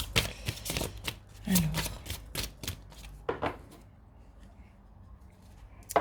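Tarot cards being shuffled and laid out on a table, a quick series of close, crisp flicks and slaps that thin out into quiet handling, with a faint voice.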